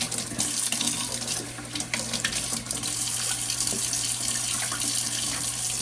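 Collards, kale and cabbage rinsed under a running kitchen sink tap make a loud, continuous splashing gush of water from start to finish, with faint handling of the leaves and no speech.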